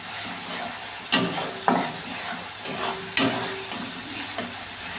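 A spice paste for a chicken and elephant foot yam curry fries in a pan while being stirred, a constant close sizzle broken by several sharp utensil scrapes against the pan at irregular intervals, with no voices.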